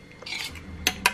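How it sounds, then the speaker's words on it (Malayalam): An egg is beaten in a bowl for a hair mask, heard as a brief whisking scrape followed by two sharp clinks of a utensil against the bowl, close and clear with no voices. "എന്നിട്ട് നന്നായിട്ട് അടിക്കുക."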